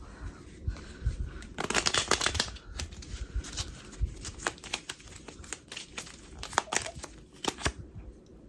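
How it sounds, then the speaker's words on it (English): A deck of tarot-style cards is shuffled close by, with a burst of rapid riffling followed by scattered softer snaps and rustles. "Let's do our second shuffle."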